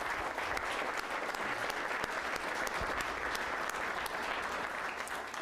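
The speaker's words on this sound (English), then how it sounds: "How about a round of applause for the Coghills?" Legislators at the Alaska Legislature give sustained applause for the Coghill family, a steady, moderately distant wash of clapping holding evenly for several seconds with no voices over it.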